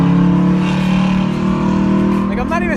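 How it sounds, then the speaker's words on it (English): A loud wrapped Nissan GT-R drives at a car meet, its engine holding a steady droning rumble close by, then a rising rev as it accelerates near the end. "Bro, I'm not used to driving a loud car anymore."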